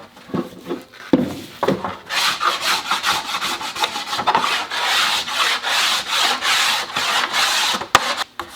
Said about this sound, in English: Gonna go back and scrape this.